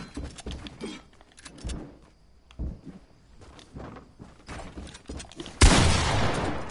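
Video game gunfire during a headshot, with a loud, dense burst of shots near the end, preceded by quieter scattered clicks and movement sounds.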